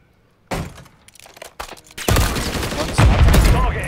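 Shooter video game gunfire breaks in after a quiet start: scattered sharp shots, then a loud, dense volley of rapid bursts with crashing impacts that keeps hammering to the end.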